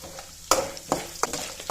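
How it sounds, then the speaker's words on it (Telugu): Lentils and garlic fry in a pan with a soft background sizzle, broken by several sharp scraping and clinking stirs of a utensil against the metal. "ఇప్పుడు పప్పులు వేసుకుందాం ఫ్రై చేసుకుందాం"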